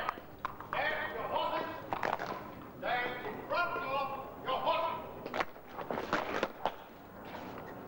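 Hooves of mounted police horses clip-clop on hard ground during a formal inspection, several animals stepping in overlapping irregular rhythms at moderate distance, with occasional other knocks and no clear talk.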